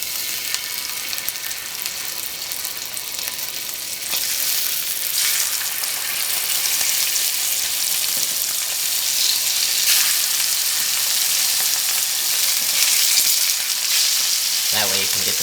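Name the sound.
salmon frying skin side down in a heated pan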